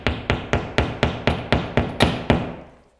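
A plastic anchor is hammered into drywall with about ten sharp, evenly spaced hammer blows at a steady brisk rhythm. The blows are close and loud, and each rings out briefly before the next.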